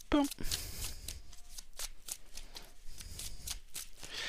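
Tarot cards being cut and shuffled, a quick riffle flutter at the start followed by a series of soft, close slaps and rustles of the deck, with a voice speaking underneath.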